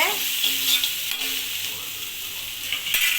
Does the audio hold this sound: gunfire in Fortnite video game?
no